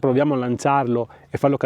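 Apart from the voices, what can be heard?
No everyday noises stand out.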